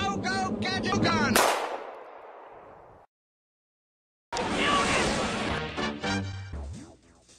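A cartoon gadget gun fires with a sharp blast that trails off into silence, then a burst of bright zapping and clattering effects under busy cartoon sound and voices.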